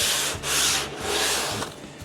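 Sandpaper rubs rhythmically across the wood of a boat under construction up close, with repeated raspy back-and-forth strokes and no talking.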